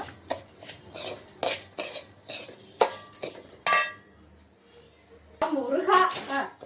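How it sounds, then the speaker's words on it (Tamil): A spoon clinks and scrapes around a pan as samba semolina is roasted in ghee, with irregular metallic stirring strokes, a brief quiet pause, then a voice is heard near the end. "இது வந்து இப்படி நல்லா வறுத்துக்கோங்க கொஞ்சம் வாசனை வர வரைக்கும் வறுத்துக்கோங்க"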